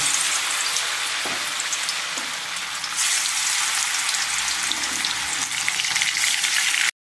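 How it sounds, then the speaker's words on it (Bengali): Loitta fish pieces coated in gram flour batter deep-frying in hot oil, a dense continuous hissing sizzle that swells louder partway through and stays close and steady until it cuts off abruptly, no voices. "কাঁচা মাছগুলো আমি বেসনের ব্যাটারের মধ্যে দিয়ে এবার তেলে ছাড়বো।"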